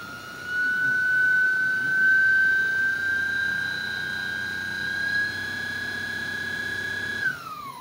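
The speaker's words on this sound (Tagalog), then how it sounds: "Takbo lang naman ng motor yan." A Keso K350x motor running, a loud steady high-pitched electric whine that holds an even tone for several seconds and then drops off abruptly near the end.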